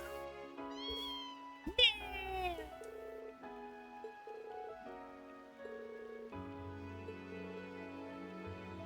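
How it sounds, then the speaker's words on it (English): A cat meows in the video game Trails of Cold Steel II, one drawn-out, clear meow rising over quiet game music, with faint rain in the background. "Also, kitty cat."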